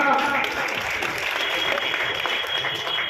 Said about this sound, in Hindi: आए और जोरदार तालियों के साथ